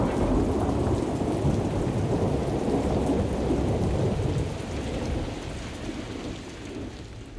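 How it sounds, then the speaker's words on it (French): Torrential rain pours down steadily with rolling thunder rumbling beneath it, a dense, continuous roar that eases slightly near the end. "Il pleut toujours à torrent."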